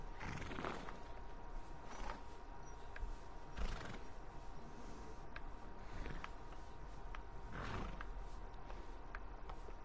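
A horse in Red Dead Redemption 2 gives several snorting whinnies over a low ambient bed, with soft hoof clops scattered between them, fairly faint and with no speech.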